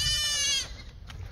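Young goats on a storm-damaged farm bleat in a loud, wavering cry lasting about half a second, then fainter, shorter bleats follow over low outdoor rumble.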